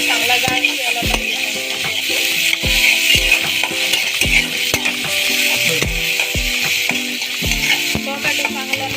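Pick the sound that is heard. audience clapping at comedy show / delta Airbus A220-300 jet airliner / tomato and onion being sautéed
tomato and onion being sautéed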